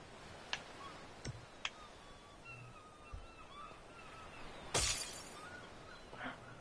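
Glass shatters in the video game ARK, a bright crash near the middle preceded by a few light ticks and clinks, faint and close against a quiet background.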